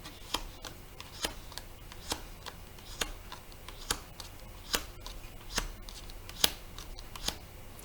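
A deck of cards being shuffled and cut gives sharp, faint clicks and snaps at a fairly regular pace, about one a second, over a quiet room, with no talking.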